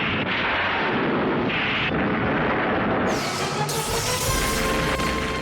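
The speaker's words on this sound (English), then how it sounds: "like the old stock explosion sound effect" A loud, rumbling stock explosion sound effect from the 2006 Ultraman Mebius series, a boom followed by crackling, rolling debris noise that sustains for several seconds.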